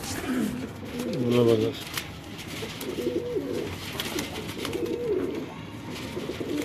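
Pigeons coo repeatedly on a rooftop in Rahmanpura, Ichhra, their low rolling calls coming in several bursts close by, while someone speaks briefly and a steady background hum runs underneath.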